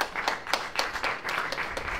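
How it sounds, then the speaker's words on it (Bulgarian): A crowd claps together in quick, regular beats, fairly loud and close. "Бен Долич, аплодисменти за Бен!"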